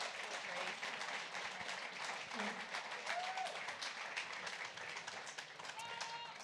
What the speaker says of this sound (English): Another round of applause for Rita.